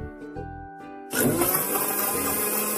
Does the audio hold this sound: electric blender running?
yes